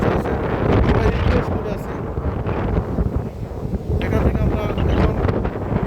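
Gusty wind on Chandranath Hill, Sitakunda, Bangladesh, roars and rumbles against the microphone throughout, with voices talking faintly beneath the blustery noise.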